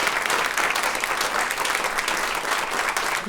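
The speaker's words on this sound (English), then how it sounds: "Give yourselves a round of applause for setting your alarms." Live studio audience at a New York morning radio show breaks into steady, close applause, a dense wash of clapping that holds evenly throughout with no talk over it.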